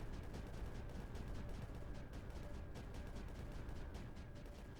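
Cannons fire continuously in the strategy game Creeper World 4, a dense, steady barrage of rapid overlapping shots with no pauses.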